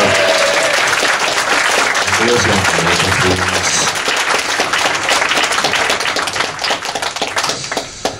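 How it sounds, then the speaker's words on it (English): Audience applause at a live stage show fills the room with dense, loud, sustained clapping that carries on throughout, with a voice speaking briefly over it partway through. "Another round of applause, I think, while he gets to the chair."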